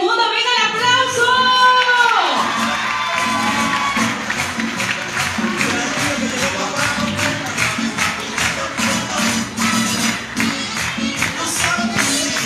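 Crowd cheering and clapping at the official presentation of the Veracruz Carnival 2022 royal court, loud and continuous with shouts and whistles; a music chord fades out at the start and rhythmic clapping carries on throughout.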